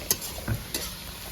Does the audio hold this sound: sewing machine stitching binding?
no